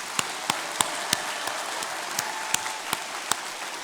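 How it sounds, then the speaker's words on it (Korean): A church congregation at a New Year worship service claps together in greeting, a steady wash of hands with regular, evenly spaced louder beats running throughout. "그래서 박수로서 함께 사랑합니다라는 마음을 가지고 함께 인사하겠습니다."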